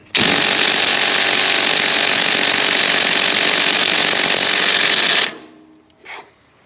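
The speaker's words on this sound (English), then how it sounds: "I've got a DeWalt 1/2 inch 20 volt brushless, and I've been trying to take this bolt." A DeWalt 1/2 inch 20V brushless impact wrench set on high hammers on a stubborn bolt on a Peterbilt 359, a loud, continuous rattling burst lasting about five seconds that then cuts off.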